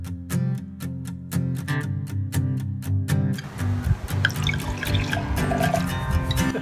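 Red wine poured for a blind tasting at a boutique Barossa Valley cellar door in Australia, a trickling, dripping liquid stream over steady low background hum, with a run of evenly spaced taps at the start.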